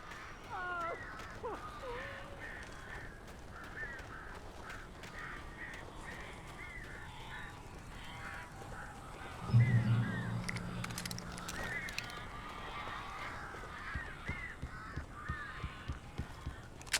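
Crows caw in the video game Alan Wake's American Nightmare: repeated harsh caws, some overlapping, over a low ambient bed, with a louder thump-like burst midway and soft voices underneath.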